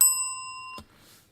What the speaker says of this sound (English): here's another bell